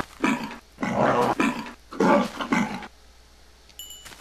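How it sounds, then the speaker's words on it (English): Tiger growling in a modded Minecraft world, three loud throaty growl bursts in quick succession, followed by a quieter pause and a faint short tone near the end. "Oh, a tiger."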